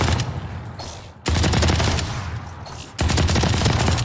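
Ares heavy machine gun from the video game Valorant firing sustained, dense automatic bursts, loud and close, with a brief dip before the rattling fire resumes at full intensity.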